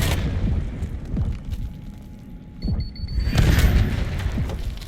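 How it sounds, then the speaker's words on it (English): A frag grenade blasts in the video game Black Ops 6 with deep booming bursts, several low thuds rolling through the scene amid game noise and a brief high tone, with no talking. "Stun thrown. Tossing frag."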